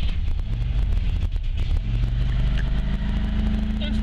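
A 1980 Lada 2101 engine runs with the choke on, a steady, loud, close rumble that holds an even idle from start to finish, with no voices.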